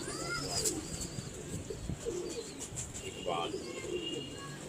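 Pigeons coo softly in a loft, low throaty calls repeating at intervals amid chirps from other birds and a faint background hum, with some distant voices.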